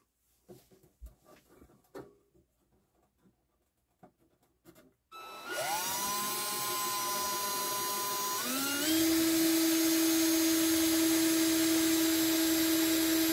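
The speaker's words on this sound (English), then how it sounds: "Let the drill do the work." An electric power drill bores a hole through a Technics SL-Q2 turntable's hinge tab, starting after a few quiet handling knocks and then whining loud and steady, its pitch settling and rising once as it bites into the part.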